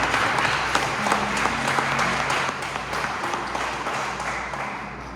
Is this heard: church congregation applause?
yes